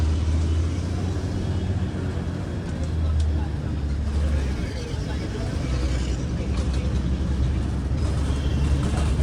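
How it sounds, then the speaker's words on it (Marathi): A red state-transport bus pulls away on a non-stop run from Panvel toward Alibag. Its diesel engine holds a steady low rumble with road and cabin noise throughout, and voices may be faintly present. "बरोबर 2 वाजता बस निघाले."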